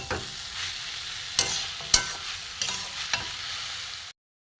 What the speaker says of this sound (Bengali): এবার আমি মশলাগুলো দিয়ে ভালো করে কষে নেবো।